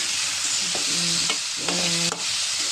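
Banana flower frying for a curry, hot oil sizzling steadily with a few stirring scrapes of a spatula in the pan, close and continuous with no talking.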